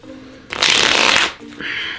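A deck of playing cards is riffle-shuffled like a poker dealer, a loud dense burst of rapid flicking lasting under a second, followed by a short softer ruffle, close up.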